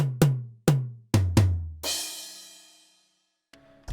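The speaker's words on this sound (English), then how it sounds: "that's whenever that tom and crash kind of complement each other" A string of booming tom hits in a beat leads straight into a crash cymbal, whose bright wash rings out and fades over about a second before a softer pair of hits closes the run.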